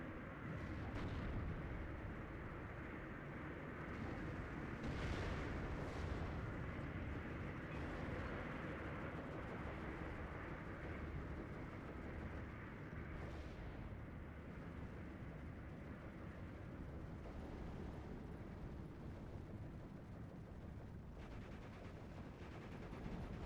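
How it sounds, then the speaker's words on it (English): Distant bombs from a Ju 88 bombing run in the Steel Division II war game rumble on as a dense, steady roar of explosions and gunfire, continuous for the whole stretch without talk. "JD88 coming in for the bombing run around here."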